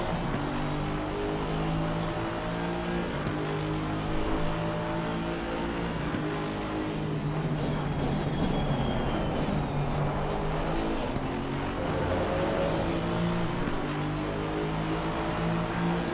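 GT race car engine at Mount Panorama in Assetto Corsa Competizione, a loud, continuous roar with rising and falling gear-change tones throughout, other cars audible around it, no talk.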